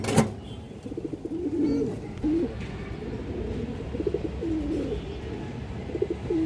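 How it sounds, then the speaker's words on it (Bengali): Rabbani female pigeons coo in a steady stream of low, rolling calls, fairly close, repeating throughout with only a little background noise. "রাব্বানিলের মাদি কবুতর, এই দেখেন একদম পুতুলের মতো একটা মাদি দর্শক"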